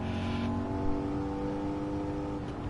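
A race car's engine revs high and holds a steady, sustained roar in the Gran Turismo video game, loud and alone, with a brief higher tone early on.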